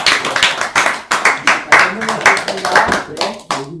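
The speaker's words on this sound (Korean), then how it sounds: "우레와 같은 박수로 해야지" Scattered hand claps from a small group at an overnight community gathering, a series of sharp, fairly loud bursts in an uneven rhythm mixed with voices and chatter throughout.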